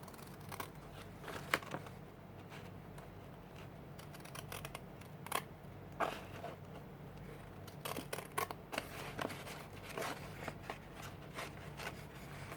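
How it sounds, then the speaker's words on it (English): Children's pattern-edged scissors snip and crunch through paper in short irregular bursts, close by, with quiet rustling between the cuts. "these are kids scissors with a pattern, and that's what I'm going to use"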